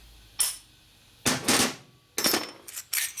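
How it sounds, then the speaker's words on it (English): A hammer strikes a transmission part during a 1961 Harley-Davidson Sportster XLCH rebuild, giving about five sharp metallic blows: two spaced hits, then a quick pair and a final cluster, close and loud against near silence. "Still got to beat on with a hammer though."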